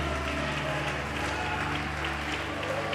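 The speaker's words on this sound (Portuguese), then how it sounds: "Pode aplaudir, pode exaltar" A worshipping church congregation applauds during a service, steady dense clapping over a sustained musical backing with a humming drone, continuous and fairly loud throughout.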